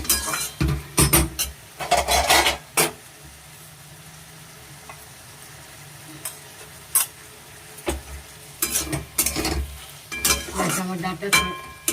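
Prawn curry with elephant-foot yam stalks is stirred in a pan after a little mustard oil is added, with bursts of close scraping and clattering against a quieter sizzling background, pausing for several seconds midway.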